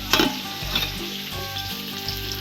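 A Katla fish head fries in hot oil in a pan, a steady close sizzle with a few louder spits and crackles near the start, no voices.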